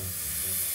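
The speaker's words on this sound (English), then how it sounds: "So in we go with fresh sizzling steak" Fresh steak sizzles as it drops into a heated pot before going into an air fryer oven, a steady close hiss filling the brief moment with no talk.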